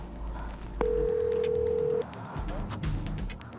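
A phone dialing tone sounds as one steady beep for about a second, followed by a few short faint tones against background noise.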